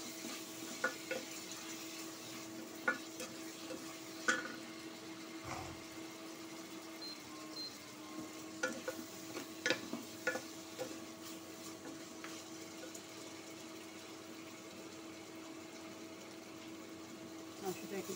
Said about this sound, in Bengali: মাংসটা ভালো করে ভেজে নিলে ভালো হয়।